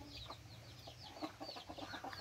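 Native Philippine chickens clucking in a rural yard, including a brooding hen, with soft, irregular clucks and chirps scattered close by over a low background.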